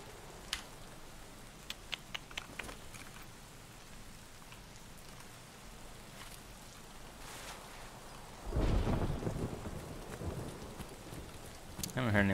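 Rain and thunder in the video game Escape From Tarkov: steady rainfall patters throughout while a deep rolling thunder rumble swells partway through, with several sharp distant cracks early on.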